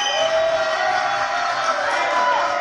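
A French TV studio audience applauds in a steady, dense wash of clapping with faint cheering mixed in, loud and continuous throughout.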